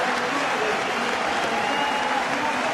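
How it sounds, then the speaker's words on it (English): A rugby crowd at a Leicester Tigers versus Stade Francais Champions Cup match gives a sustained ovation as Brendan O'Connor leaves the field, a dense, even roar of clapping and cheering. "I think when the crowd here realise that O'Connor's night is done, he's going to get some ovation"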